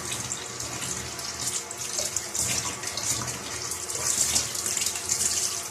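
A kitchen tap runs warm water while salted fish (fesikh) is being rinsed, making a steady close hiss of flowing water with small splashing changes as the fish moves under the stream.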